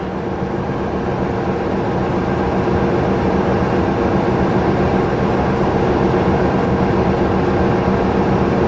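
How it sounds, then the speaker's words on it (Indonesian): A steady, loud rumble of long-distance trains at busy Gambir station, Jakarta, filling the space, continuous and unbroken, with no voices heard. "Ramainya stasiun Gambir oleh kereta api jarak jauh luar biasa"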